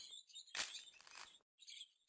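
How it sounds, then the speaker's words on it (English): Birds chirping in the video game Quadrilateral Cowboy, faint high twittering calls in short overlapping bursts with a brief pause, no talking. "There's some birds in here."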